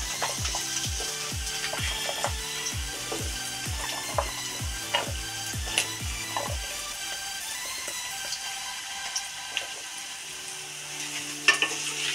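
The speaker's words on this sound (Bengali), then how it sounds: "এবার আমি এই তেলে আলুগুলো ভেজে নেব।" Potatoes frying in hot oil, a soft continuous sizzle with a regular series of close stirring knocks and scrapes in the first half, then quieter bubbling with occasional clinks.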